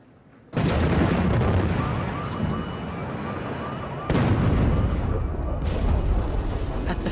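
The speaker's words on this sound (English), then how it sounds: "As the first bombs fell" Bombs explode during an air raid on Baghdad: a sudden loud blast erupts and roars on as a heavy rumbling wash, followed by a second powerful detonation and further thunderous booms, close and overwhelming.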